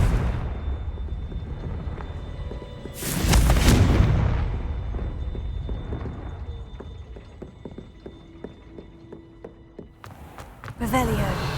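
A Confringo blasting spell in Hogwarts Legacy erupts in a loud fiery explosion that rumbles and fades, followed by scattered game effects and another burst at the end, with a voice speaking over it.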